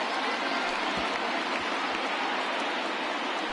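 Broad roaring wash of a baseball stadium crowd of over 28,000 at a Twins–Blue Jays game, rising to their feet and cheering steadily, distant and diffuse with no clear voices.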